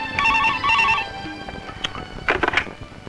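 A telephone rings with two quick trilling bursts, fairly close, then fades into quieter background noise with faint clicks.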